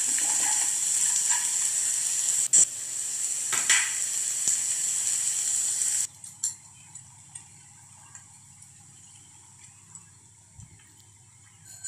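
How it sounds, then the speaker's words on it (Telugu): Grated dry coconut fries in a pan with a steady close hiss and a few clicks, loud for the first six seconds, then dropping to a faint low sizzle for the rest. "ఎండు కొబ్బరి తురుము వేసి కొంచెం ఫ్రై చేసుకొని"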